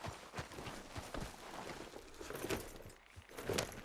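Horse hooves clip-clop at a steady walking rhythm in Red Dead Redemption 2, with light jangling tack alongside, heard fairly close over a soft outdoor game ambience.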